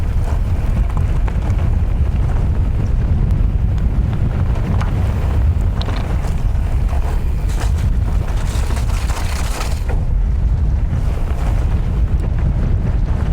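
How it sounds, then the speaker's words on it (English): Strong wind buffets the microphone while riding a Specialized Levo Turbo Alloy electric mountain bike into a headwind, a loud, continuous roaring rumble that never lets up, with no talking. "Bit of a headwind."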